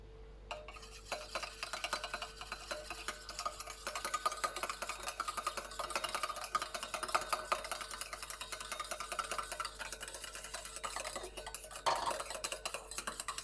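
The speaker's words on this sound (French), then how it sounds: "on rajoute l'hydrolat dans l'huile et on bat" Hydrosol being whisked into oil for a cosmetic emulsion, a rapid steady clicking and tapping of the whisk against the bowl that starts after a brief quiet moment and continues close and fairly faint, with no talk.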